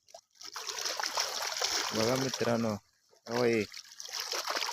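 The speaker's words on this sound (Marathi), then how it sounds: "बांधाऱ्यावरनं पाणी आहे" River water pours over a weir in a steady, broadband rush that continues throughout, with people talking over it.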